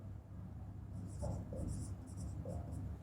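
Marker or chalk writing on a board during an English grammar lesson, a few short scratchy strokes in quick bursts, faint against a low room hum with no talking.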